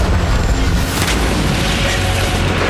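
A bomb blast from an Israeli airstrike on the city of Tyre, Lebanon, comes through as a heavy, sustained low rumble with broad roaring noise that stays loud for the whole stretch, with no voices.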